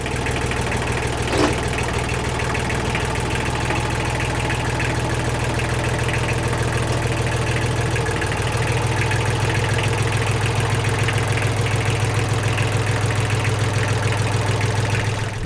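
A tractor engine runs steadily nearby, a continuous low rumbling chug with a knocking vibration that holds constant throughout.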